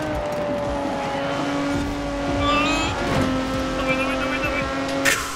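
A car engine in the Forza Horizon 4 racing game revs at full throttle with a steady tonal drone, a brief tire squeal near the end, and loud throughout.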